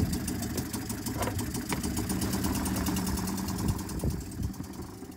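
A Yamaha Malta outboard motor runs steadily after being started, a continuous mid-pitched engine drone with a slightly uneven, knocking rhythm, close and loud throughout with a few brief knocks near the end.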